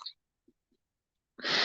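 A single sharp sneeze bursts out loudly at the end after a near-silent pause with a couple of faint breaths.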